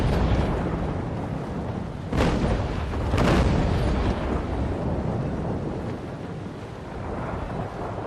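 Naval Action ship cannons boom in the sea battle, with two sharp blasts standing out above a dense, continuous rumble of distant gunfire and crashing noise; no one talks.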